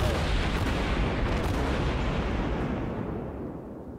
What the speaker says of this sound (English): Kind of spamming the shells, admittedly, but there is a valid tactic